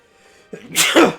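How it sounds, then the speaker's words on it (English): A single loud, close sneeze, a short sharp inhale followed by an explosive burst, in an otherwise quiet setting. "Not the best time to be going to sneeze."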